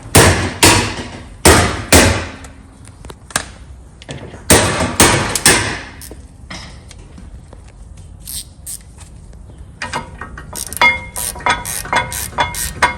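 Brake parts on a 2018-2020 Honda Accord with performance cross-drilled and slotted rotors being tightened, giving sharp metallic clanks and bursts of ratcheting up close, then a quieter stretch and faster clicking toward the end.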